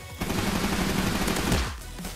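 Rapid bursts of automatic gunfire from a team deathmatch round in the Roblox shooter Energy Assault, a dense, continuous rattle of shots that thins out near the end.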